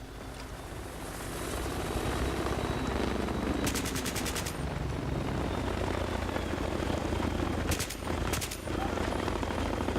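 A helicopter drones steadily overhead in the Battlefield 3 video game, its rotor and engine rumble constant throughout. A few short bursts of rapid gunfire break through the drone, and there is no talk.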